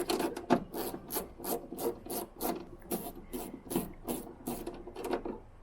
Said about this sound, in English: I'm just gonna unscrew this.